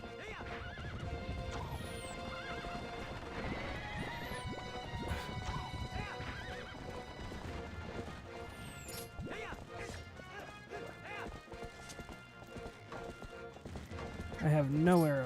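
In Zelda: Twilight Princess, a horse's hooves clip-clop at a gallop through a busy game soundtrack, with whinnies and crashes mixed in. People talk over the game sounds throughout.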